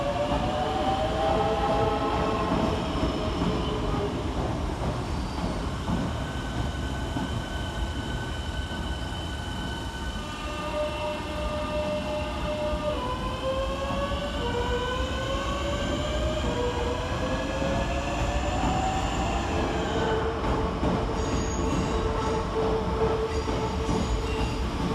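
Southeastern Class 465 electric trains at London Cannon Street station, steady rolling rumble with rising and falling motor whine and some wheel squeal, continuous and fairly close, no talk.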